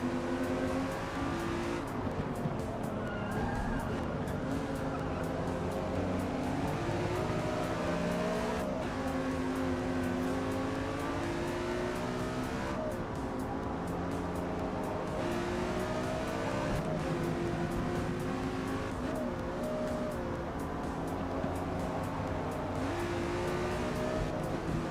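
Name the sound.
Nissan car driving, brake checking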